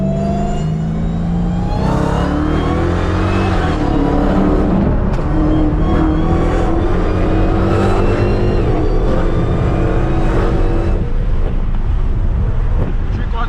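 A Dodge SRT Hellcat's engine revs and pulls hard while weaving through city traffic, loud and close from inside the car, with wind rush and shifting engine pitch and brief talk over it.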